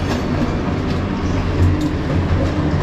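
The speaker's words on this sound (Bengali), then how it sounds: "এই আমাদের জানলা দিয়ে যে কত মেল ট্রেন যাওয়া যায়" A mail train bound for Bihar rumbles past outside a window, a loud continuous roar with rhythmic wheel clatter filling the whole stretch, close by and with no voices.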